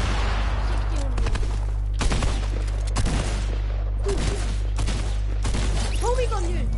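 A Tommy gun fires in a video game as repeated loud bursts of rapid shots, roughly a second apart, over a constant low hum, while a player talks between and over the volleys.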